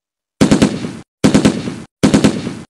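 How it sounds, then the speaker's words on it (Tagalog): Gunshot sound effect in a Filipino horror audio drama: three loud, close bursts of rapid automatic fire, each roughly half a second long, separated by short silences. "Narinig niyang nagpaputok ang isa sa mga tanod"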